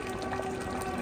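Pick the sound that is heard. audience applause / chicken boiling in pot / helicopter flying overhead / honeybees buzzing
chicken boiling in pot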